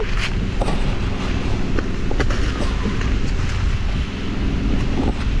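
Strong wind at a campsite roars continuously into the microphone, a loud buffeting rush with no pauses and no voices.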